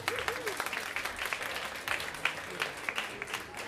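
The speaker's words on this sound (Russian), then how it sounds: "я думаю, что уже можно аплодировать нашим музыкантам" Concert audience applauding the musicians, scattered individual claps building into sparse applause at a moderate distance, with a faint voice briefly audible underneath.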